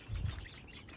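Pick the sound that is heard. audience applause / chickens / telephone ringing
chickens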